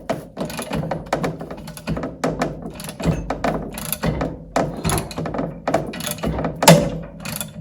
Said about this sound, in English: as I was tightening the puller, to actually crack the outer portion of the carrier